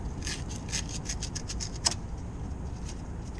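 Sandpaper rubbed by hand over the contacts of three starter wires on a Ford Econoline van: a quick run of short, close rasping strokes followed by a sharper scrape, then quieter rubbing against a low background hum.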